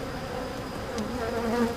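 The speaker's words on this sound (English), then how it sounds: "the bees are a little cooped up in the hive" Honeybees buzzing steadily inside a hive kept cooped up by humid 70-degree weather, a dense, continuous drone close by with no talk.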